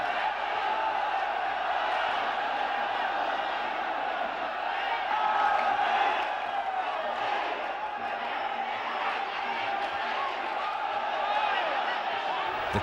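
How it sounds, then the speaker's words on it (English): A Muay Thai fight crowd roaring and cheering, a dense, sustained wall of voices with shouts rising and falling, heard from within the arena. "The crowd is going crazy as the odds start to go against the champion."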